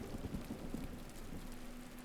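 Steady rain pours over a farm plot in RuneScape: Dragonwilds, a soft continuous hiss with a few louder drop patters near the start, alone with no voices.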